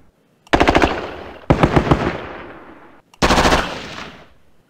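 Machine gun fire in the Squad Battles Grenada video game comes in three loud, close bursts of rapid shots, each burst trailing off in a short decaying echo before the next.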